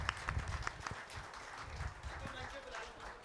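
Scattered audience applause at a Garhwali film trailer and music launch, moderately loud claps running across a crowd with a voice talking over them.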